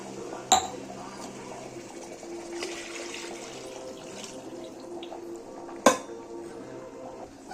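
Water is poured into a pressure cooker with frying rice and spices, a soft running wash under kitchen clatter, with two sharp metallic clinks of the pot, one near the start and one near the end.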